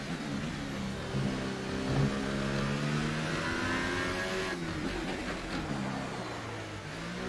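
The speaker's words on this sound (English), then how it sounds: "That engine sounds so broken, it's a joke." A Formula 1 car engine in F1 2018 at Monaco roars loud and continuous, its pitch sweeping up through the gears, then dipping before climbing again, with no voices over it.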